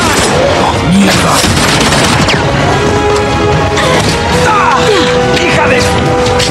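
Gunfire and crashing impacts from an Uncharted 2 cutscene, dense and loud throughout, mixed with shouting voices and orchestral-style score, with bursts of shots and booms rather than isolated single rounds.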